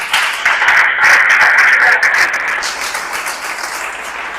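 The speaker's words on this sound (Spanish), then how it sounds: "denle un aplauso si le va a aplaudir a Él" A church congregation applauds during a Spanish-language prayer service, dense, bright clapping from many hands filling the room, loud at first and gradually easing off over four seconds.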